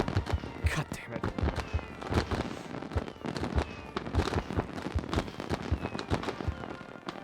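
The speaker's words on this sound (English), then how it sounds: "The amount of fireworks that we're producing," Fireworks in Civilization VII crackle and pop in dense, continuous bursts at moderate loudness, a steady rapid patter of small explosions under a speaking voice.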